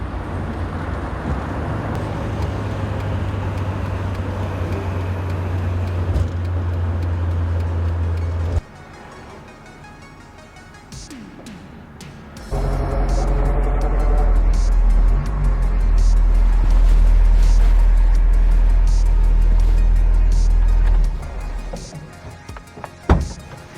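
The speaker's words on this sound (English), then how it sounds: "Hands off wheel, car's driving straight." A 1971 Alfa Romeo GTV cruising on the road, its steady engine drone and road rumble loud and close, dropping away briefly in the middle before returning strongly, then cutting off near the end with a knock.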